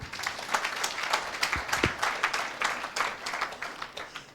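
Steady applause from a church congregation, dense clapping that holds at an even level for several seconds with a few sharper individual claps.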